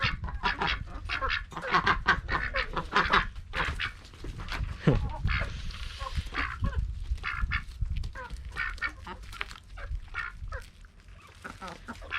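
Busy farmyard of ducks and geese honking and quacking, loud and overlapping, with a dog and other birds mixed in throughout.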